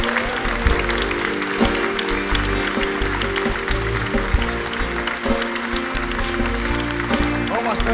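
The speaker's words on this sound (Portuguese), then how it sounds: "Aplauda ao Senhor com bastante alegria." Congregation applauding during a Portuguese-language communion service in church, a steady wash of clapping under music and a speaking voice throughout.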